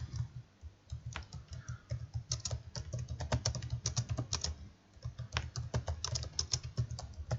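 Steady typing on a computer keyboard, a continuous run of close, crisp key clicks with irregular rhythm and brief pauses, heard alone without any voices.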